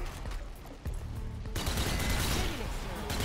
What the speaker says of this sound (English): When did zombies get guns? I'm sorry. He's stupid. Look how he's shooting.